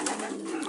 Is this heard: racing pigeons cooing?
yes